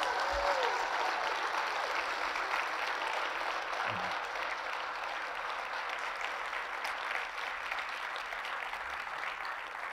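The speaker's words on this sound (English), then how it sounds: "I want you to help me give a round of applause to these guys." A church audience gives a round of applause, a steady, moderately distant wash of many hands clapping that holds at an even level throughout.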